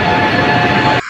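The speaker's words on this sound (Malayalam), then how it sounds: "അവിടെ ട്രെയിൻ അതാ ഗൈസ് മെട്രോ വരുന്നു" Metro train arriving at a station, a loud, steady rushing roar with a faint tonal whine that cuts off abruptly near the end.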